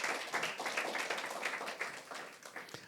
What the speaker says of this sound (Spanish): Un fuerte aplauso para nuestro Señor